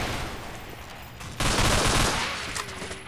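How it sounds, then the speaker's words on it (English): Gunfire from the Half-Life 2 mod game Underhell, a dense burst of shots and rattling fire that swells loudly midway and then tapers, with no talking over it. "Dude, don't shoot the hostage."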